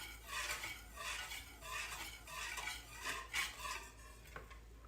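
Eggs and milk whisked together in a bowl, a steady close rhythmic swishing with light metallic clinks of the whisk against the sides, repeated in quick bursts with no talking.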